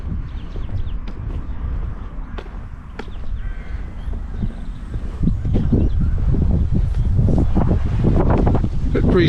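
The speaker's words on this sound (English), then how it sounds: "Bit breezy today, so hopefully the wind's not spoiling our video for you." Spring breeze buffeting a microphone outdoors in a village in Wiltshire, heard as a steady low rumble with gusty thumps that grow stronger toward the end.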